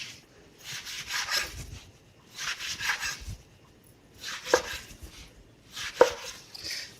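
A knife slices through a beef fillet on a cutting board in four separate bursts of soft, quiet cutting strokes, each cut rubbing and ending in a light tap against the board.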